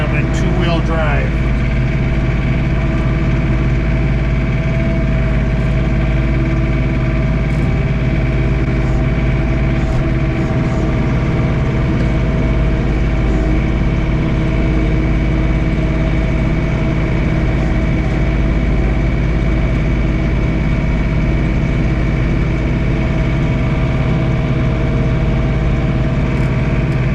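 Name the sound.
John Deere 3 Series tractor idling while snowblowing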